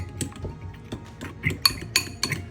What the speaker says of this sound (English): I'm just gonna whisk this together